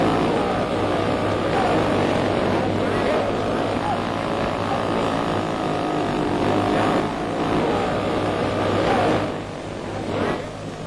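A vintage 1930s-1960s model airplane flying stunts, its small engine giving a steady, loud buzzing drone that swells and fades slightly as it passes, continuous throughout with a drop near the end.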